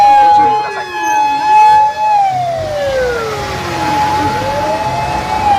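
A toy fire truck siren wails in rising and falling sweeps, loud and close, running the whole time with no talking over it.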